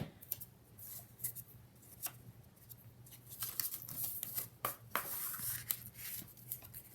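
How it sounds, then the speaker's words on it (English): Scissors snip through three paper cards stacked together during shaker card prep, with crisp, irregular cuts heard up close and no talking. "especially when I'm trying to cut 3 cards at once"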